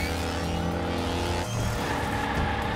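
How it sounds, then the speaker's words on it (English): A '69 Dodge Charger Daytona drifting in Hot Wheels Unleashed, a loud steady engine roar with layered harmonic whine that shifts abruptly midway as the car slides. "Nice drifting here"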